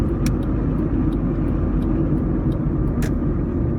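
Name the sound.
lowered Honda Civic car driving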